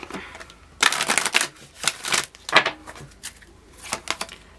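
Several bursts of tarot card shuffling, crisp riffles and rustles in quick succession, close up with short pauses between them.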